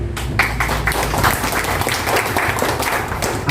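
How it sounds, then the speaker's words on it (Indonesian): Audience applause at an Indonesian civil-service gathering: a dense, loud burst of many hands clapping steadily, close and continuous throughout. "Kita berikan aplaus."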